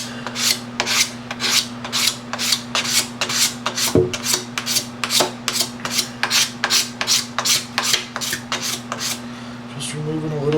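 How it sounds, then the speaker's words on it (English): A blade scrapes a thin layer off a plastic motocross gas tank in steady, rhythmic strokes, about two per second, close and crisp, with a low steady hum underneath and a brief knock partway through. "Removing a little layer of plastic."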